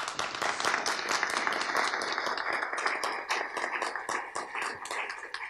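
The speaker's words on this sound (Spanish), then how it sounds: "Un aplauso." Audience applause after a prize announcement at a Universidad Central writing workshop awards event, dense steady clapping from many hands that stays full and close throughout.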